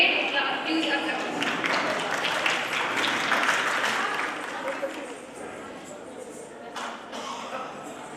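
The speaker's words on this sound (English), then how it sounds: "So let's welcome Asta with a great huge applause" Moderately loud audience applause at a college annual function in Aligarh, a dense wash of clapping that gradually softens and trails off, with some voices mixed in.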